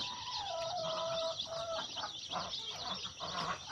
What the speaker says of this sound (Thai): ผมลงลูกไก่ใหม่นะครับ เป็นไก่ไข่พัน โรมันบาวนะครับ